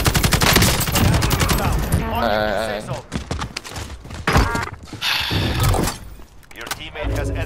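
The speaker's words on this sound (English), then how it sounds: "I'm just shooting randomly." Rapid gunfire bursts from a Call of Duty: Modern Warfare match, loud and dense throughout, mixed with game effects and voices talking over the shooting.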